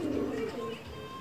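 A pet pigeon of an old breed coos close by on a rooftop, a soft low throaty call that fades out after its first half.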